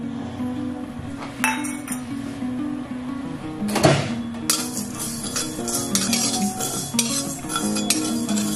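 Panch phoron spices frying in oil for Bengali sukto, stirred with a metal spatula: repeated clinks and scrapes against the pan over a soft sizzle, close by.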